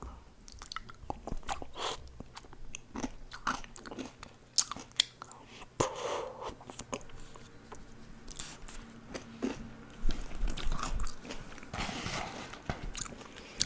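Close, crisp bites and wet chewing of McDonald's food from Portugal, with repeated crunches and smacking mouth sounds, loud and intimate, and faint speech now and then.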